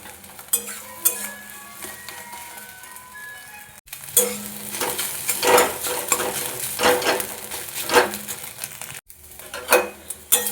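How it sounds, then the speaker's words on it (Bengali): Egg bhujia frying in a wok for ghugni, a close sizzle with repeated scraping and clinking of a spatula against the pan in an uneven stirring rhythm, with two abrupt breaks. "ডিমটা প্রথমে গুজিয়াতে বানিয়ে নেব"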